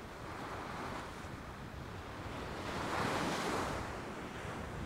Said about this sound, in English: it was supposed to drop off, that wind